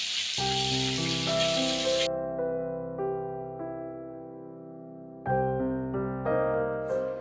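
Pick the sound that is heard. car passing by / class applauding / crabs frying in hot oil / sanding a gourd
crabs frying in hot oil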